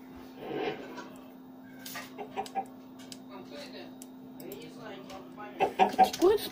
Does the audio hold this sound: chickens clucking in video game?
yes